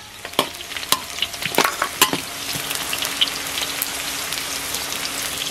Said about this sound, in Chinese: 再来块火锅底料，